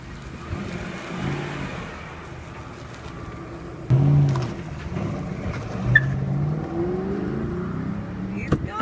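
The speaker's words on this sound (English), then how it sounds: "the next thing we're gonna see is you peeling off the lot in a new car" A Ford Mustang GT pulls away from a lot, its engine rumbling and revving up with a sudden surge partway through, fairly loud and fading as it moves off amid outdoor background noise.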